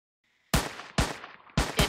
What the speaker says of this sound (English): I hear lots of gunshots